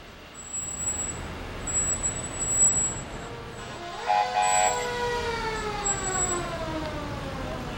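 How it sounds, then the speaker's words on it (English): A fire truck siren wails at a Fourth of July parade, its tone sweeping up and gliding down over street ambience with a rumbling engine, moderately near and steady, a brief higher electronic whoop joining midway. "It's always fun to hear the sirens here."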